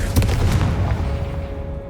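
A Confringo explosive spell in Hogwarts Legacy detonates with a loud, deep boom that rolls off and fades over a couple of seconds.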